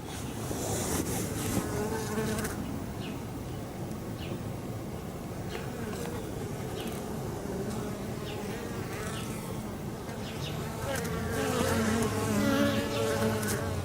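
Honey bees buzzing at a hive entrance in Massachusetts in March, a steady dense drone of many wings with individual bees passing close by, swelling louder near the end, no voices.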